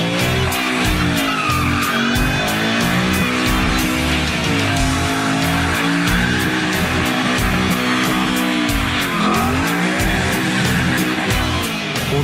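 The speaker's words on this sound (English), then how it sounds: "Whether it's squealing its tires on a burnout," A Ford Mustang Shelby GT500 with a 650-horsepower V8 squeals its tires through a loud, sustained burnout, the engine roaring underneath the continuous screech.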